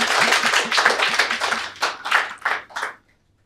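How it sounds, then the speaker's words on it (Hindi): A studio audience claps to welcome the next guest onto a Hindi comedy show, a dense burst of applause that thins into a few separate claps before stopping abruptly. "With a huge round of applause, please welcome the next Chugalkhor."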